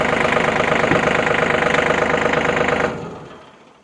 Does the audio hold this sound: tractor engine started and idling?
yes